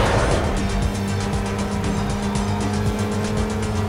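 A Mazda races above 200 km/h in Need for Speed Most Wanted (2005), its engine a loud, sustained high-revving whine with tire squeal layered over the steady roar.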